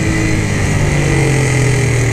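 A Star Turbo motorbike drones steadily past, its mid-pitched engine hum loud and continuous without clear rise or fall, no voices over it.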